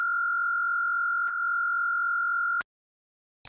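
Unprocessed synthesized sine wave from a psychedelic hybrid trap sound design, one steady pure tone sustained for about two and a half seconds with small clicks, then silence and a short blip.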